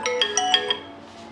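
A bright electronic phone ringtone plays a quick run of four rising tones, then stops and leaves a fading tail.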